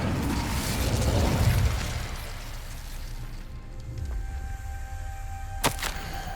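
A fire spell, Incendio, cast in Hogwarts Legacy: a roaring, whooshing burst of flame swells over the first two seconds, followed by a quieter rumbling tail and a sharp crackling pop near the end.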